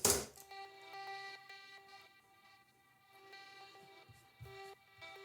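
Tiny slices of a bounced electronic track retriggered in a sampler, producing short, choppy tonal blips and stuttering melodic fragments in an irregular pattern, moderately loud and alone.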